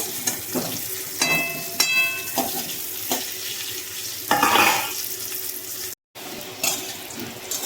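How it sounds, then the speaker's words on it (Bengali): Potatoes frying in a pan, with a steady soft sizzle under intermittent scraping and clattering stirs of a utensil against the pan, close by and with no voices. "আলুগুলো ভাজা হয়ে গেছে এখন তুলে নেব"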